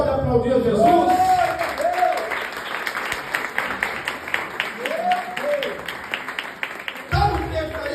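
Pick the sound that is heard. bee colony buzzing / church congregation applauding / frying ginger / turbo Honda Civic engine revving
church congregation applauding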